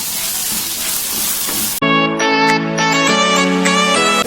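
Garam masala and salt being stirred into a sizzling mixture in a hot pan for paneer peas pulao, a steady loud fry that breaks off briefly and resumes with ringing metallic scrapes of the spoon against the pan.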